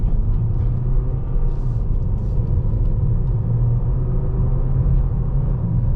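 Steady low rumble of a Mercedes A 250e plug-in hybrid's 1.6-litre four-cylinder Renault petrol engine, heard from inside the car as it drives at an even pace, loud and continuous with no talk.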